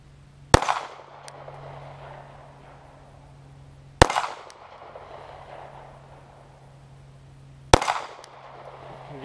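Three sharp, loud Glock 43 pistol shots fired outdoors at distant steel targets, spaced a few seconds apart, each with a short ringing decay.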